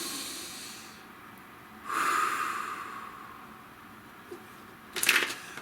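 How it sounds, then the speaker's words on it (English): A single person drawing a deep breath close to the microphone, a soft airy inhale swelling after a quiet pause, followed later by a brief sharper exhale or sniff, faint overall with no talk. "Nice deep breath."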